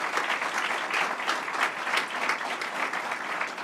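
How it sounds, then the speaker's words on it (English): Audience applause at a regional investment event in Western New York, a dense, even roll of clapping from a sizable crowd that holds steady throughout. "Let's give him another round of applause."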